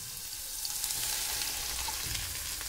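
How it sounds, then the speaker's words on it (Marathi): Mustard and cumin seeds crackle and sizzle in hot oil, a dense continuous spitting with small pops, close and fairly loud, no voices. "जिरे मोहरी छान तडतडली"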